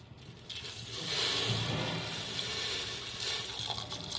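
Water is poured over dried white peas in a pressure cooker, a rushing, filling gush that swells after a quiet start and runs steadily for a few seconds.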